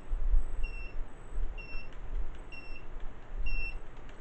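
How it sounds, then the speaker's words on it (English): An RC truck gives short electronic beeps in pairs, repeating about once a second, over a low rumbling background. "just gotta figure out why it's beeping"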